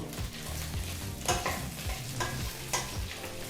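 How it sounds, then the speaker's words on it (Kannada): Okra frying in a little oil over medium flame for a bhindi gravy, stirred in a pan: a close, steady sizzle with rapid scraping strokes and two sharper knocks of the utensil, no voices. "ಈಗ ಮೀಡಿಯಂ ಫ್ಲೇಮ್ನಲ್ಲೇ ಏಳರಿಂದ ಎಂಟು ನಿಮಿಷ ಚೆನ್ನಾಗಿ ಬೆಂಡೆಕಾಯಿನ ಹುರ್ಕೋಬೇಕು"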